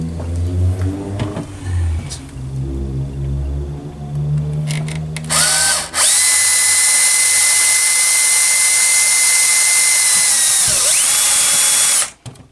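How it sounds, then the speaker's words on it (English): A small power drill with a 3mm bit bores a hole for a Tamiya Rising Fighter transmission brace, whining at a high steady pitch for about six seconds after some quieter handling and hum, then stopping abruptly. "And the drill."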